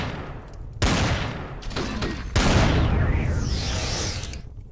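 Gunfire from enemy weapons in the sci-fi survival game Empyrion Galactic Survival, heavy loud bursts hitting in quick succession with sharp onsets and a long roaring tail, no talk.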